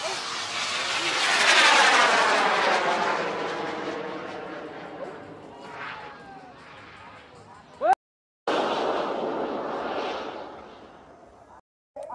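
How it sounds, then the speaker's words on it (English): Homemade rockets launch at the 2016 Bun Bang Fai Rocket Festival in Yasothon, Thailand: a loud roaring whoosh swells and slowly fades, then another roaring burst follows after a brief cut, with crowd voices around. "things have begun at the Bun Bang Fai Rocket Festival"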